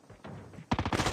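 Call of Duty Mobile gunfire: after a quieter stretch, a loud burst of rapid automatic shots erupts, several sharp reports in quick succession close up.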